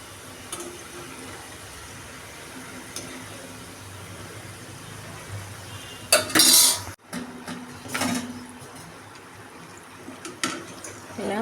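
Rice rings (chegodilu) frying in oil and being turned in a pan: a low continuous bubbling sizzle broken by loud metallic scrapes and clatters of a utensil against the pan, close by with no speech.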